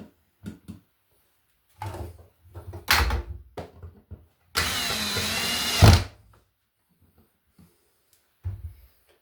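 A power screwdriver drives screws to mount an outlet in a 4-inch square electrical box, a short whirring burst of about a second amid scattered handling clicks and taps, close by, with no talking.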